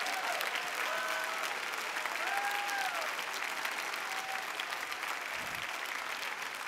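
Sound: church congregation standing and clapping

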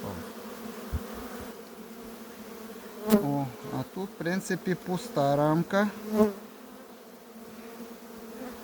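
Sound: honey bees buzzing around hive frames

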